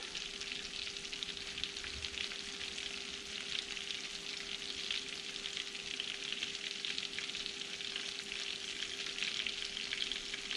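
Bluegill fillets fry in hot oil, a continuous bright crackling sizzle with a steady low hum beneath it and no voices.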